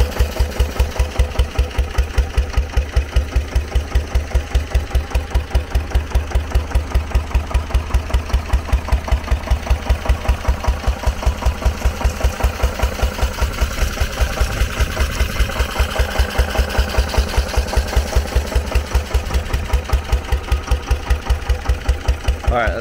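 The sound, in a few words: SABB GA 12 HP air-cooled single-cylinder diesel engine running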